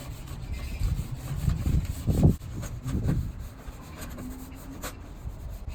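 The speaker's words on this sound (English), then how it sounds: "after you scrub the tray and cleaned it out, wash it off and let it dry" A plastic seed tray scrubbed with a regular sponge and Dawn dish soap: close, soft rubbing strokes that swell in the middle and fade out, with no talking.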